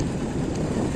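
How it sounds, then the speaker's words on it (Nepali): A rushing mountain river in a village below the Dhaulagiri Himalaya roars as a constant dense broadband hiss, steady and fairly loud, with no talk. "त्यही खोला हल्ला झ्याउ लाउने हो।"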